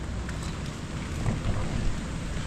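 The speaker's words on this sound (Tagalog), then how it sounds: "Paulan-ulan na lang." Steady rain falling on a rainy morning, a dense continuous patter and wash of drops at moderate level with a low rumble underneath.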